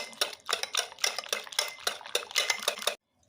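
Cookie batter with oil beaten hard in a bowl, a utensil scraping and clinking against the sides in a fast steady rhythm of repeated strokes, close and clear, stopping abruptly near the end.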